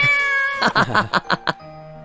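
In the video game Corpse Party: Book of Shadows, a cat lets out a sustained cry, then a quick run of five short, evenly spaced meows, loud and close, with a faint tone lingering afterward.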